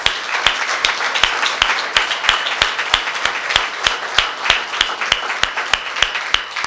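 At a detention center event, the audience claps for Sheriff's Department members, a steady run of distinct, fairly close claps with a rhythmic pulse that keeps going the whole time.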